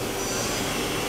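A Nakamura-Tome WTS-150 CNC lathe's right spindle, fitted with a 6-inch chuck, spins up around 3,500 RPM, giving a steady, dense whirring whine with a constant broadband hiss and no talking.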